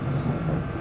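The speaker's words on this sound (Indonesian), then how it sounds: "kereta Gajah Wong Priority diberangkatkan meninggalkan stasiun Pasar Senen" A steady low rumble of the Gajah Wong passenger train departing Pasar Senen station in Jakarta, continuous and even, with a faint high whine above it and no voices.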